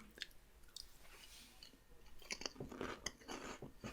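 Skips crisps being eaten close by, faint soft crunching and chewing that grows a little busier toward the end, with no speech.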